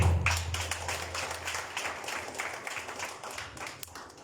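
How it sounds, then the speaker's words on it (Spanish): Soft, fairly distant applause from an audience at a commemorative event honoring Túpac Amaru II and Micaela Bastidas, a steady patter of hand claps lasting several seconds with a low hum underneath. "Un aplauso, por favor."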